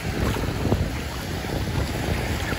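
Strong wind blows at a lakeshore park during low tide, a steady broadband roar buffeting the microphone with faint lapping water underneath, no voices.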